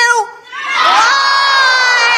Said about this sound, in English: And let me ask the crowd, what did Trump do?